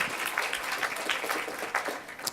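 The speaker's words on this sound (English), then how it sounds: "Who, by show of applause, if you so dare, are not that excited about the election results" Light, scattered applause from an energy summit audience, a thin patter of claps with a few louder individual hand claps rising and falling over a couple of seconds.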